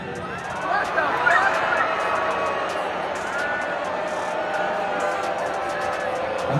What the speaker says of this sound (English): take a listen to how the crowd responded to this